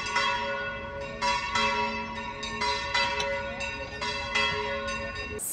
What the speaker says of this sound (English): The bells just went off.